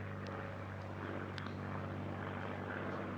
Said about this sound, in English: an absolutely wonderful aircraft, the P-51 Mustang, flown by Peter Teichmann